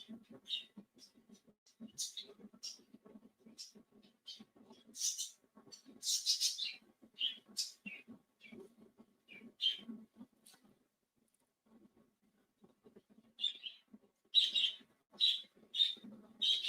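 Small birds chirp in short, scattered bursts, faint at first and clearer and closer near the end, while people talk throughout.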